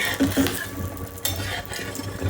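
Village egg pola cooking in a frying pan, with a soft sizzle and brief scraping and clattering as the pan is handled and the pola is turned over, close and moderately quiet.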